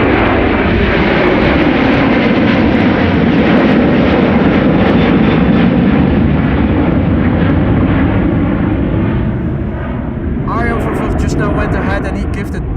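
Airliner departing Amsterdam Schiphol on a sunny day: a loud, sustained jet engine roar dominates, easing slightly near the end, with a voice speaking over the noise.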